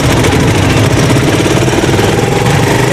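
A Rusi Chariot 175 cargo trike's engine runs loud and close, a steady rough mechanical drone with rapid pulsing throb and no pauses.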